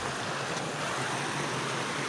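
River water flowing in a steady, broadband rush, continuous and fairly close, with no voices over it.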